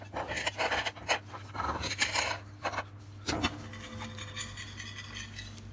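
A knife cuts through a baked moussaka, giving soft scraping and rasping strokes in short uneven bursts, close by and quiet.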